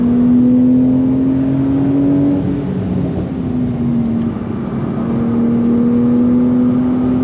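A Porsche 992 Turbo driving on the Nürburgring, heard from inside the cabin as a loud, steady engine drone that rises and shifts in pitch under heavy road noise.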